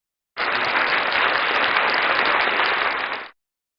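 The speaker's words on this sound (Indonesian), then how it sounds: "Kasih tepuk tangan dulu dong." A church congregation at a Sunday worship service bursts into applause, a dense, even wall of clapping that starts abruptly, holds steady for about three seconds, then cuts off.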